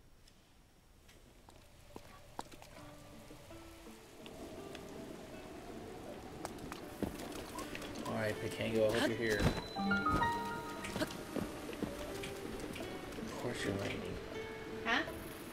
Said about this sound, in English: I said, of course it's raining.